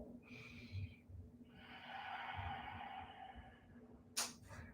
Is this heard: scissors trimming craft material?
no